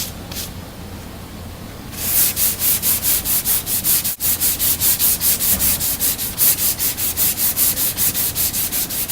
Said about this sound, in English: Cross sanding, just trying to get it to feather in good.